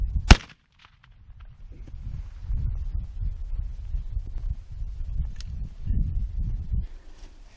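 A single sharp, loud muzzleloader rifle shot right at the start, followed by quiet outdoor rustling and breeze.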